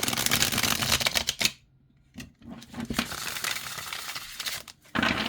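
Tarot cards are shuffled in rapid riffling bursts, a dense papery flutter that stops briefly, resumes, pauses again, then starts once more.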